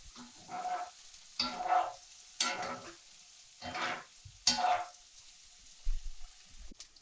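Colocasia (taro root) pieces roasting with chili powder in a pan: loud sizzling bursts come in about five separate waves, each fading before the next stir, with quiet gaps between.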